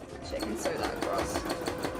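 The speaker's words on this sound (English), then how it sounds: "I can sew that across" An embroidery sewing machine stitching fabric, a rapid steady mechanical rattle under a person talking.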